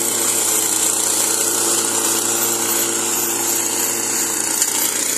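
A Chinese-made 7 HP four-stroke petrol engine drives a 40 cm disc brush cutter for clearing oil palm plantation circles, running at a steady, loud, high-pitched whine throughout with no talk.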